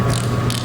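An inch-pound torque wrench clicks once while tightening the oil-change bolts on a 2009 TW200 motorcycle, a light, close mechanical ratchet sound that holds steady for a brief moment.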